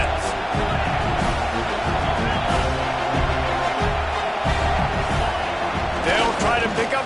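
Football stadium crowd roaring steadily as the defense lines up for a third down, a dense wall of cheering noise filling the whole clip beneath a commentator's talk.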